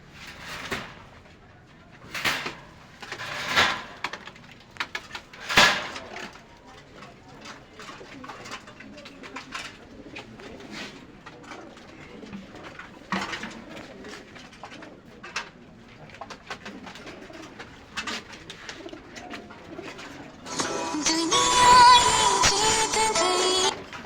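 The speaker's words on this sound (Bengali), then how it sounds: "এলো পাকিস্তানি কবুতর সব বুঝছেন।" Pigeons coo repeatedly at close range in a loft, soft throaty calls over rustling and wing shuffles, with a loud burst of broadband noise near the end.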